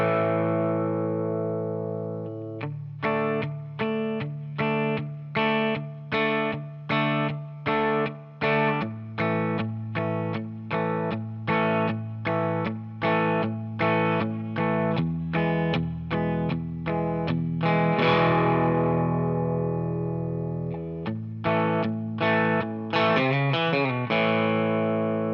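Electric guitar strums a repeating nine-bar country chord progression for a song, with a little country lick. Steady rhythmic chord hits with a slightly driven tone, close and alone with no talking.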